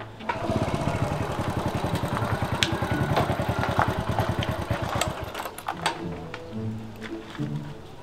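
A motorcycle engine idles with a steady, fast low throb for about five seconds, then fades under voices chatting nearby in a village setting.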